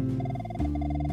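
A telephone rings in a PSP mystery game, a rapid pulsing electronic trill repeating steadily over low sustained background music.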